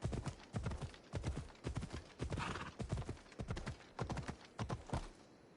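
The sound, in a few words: horse hooves in Assassin's Creed Odyssey video game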